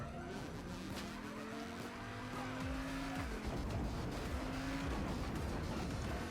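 Car engine revving as it drives away during a heist in the video game Payday 2, a continuous roar with tire squeal, steady and fairly loud throughout.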